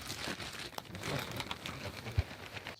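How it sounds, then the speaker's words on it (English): Soft crinkling of the fabric back curtain on a FarmTek Chick-Inn chicken coop as its zippers are undone and it drops, a faint rustle with one sharp low thump near the end. "I'm going to take these zippers, undo it, and drop the back curtain down"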